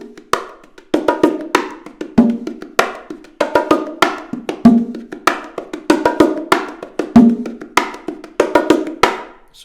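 Bongos played in a steady sixteenth-note groove, soft ghost taps filling between louder accented slaps, close and alone.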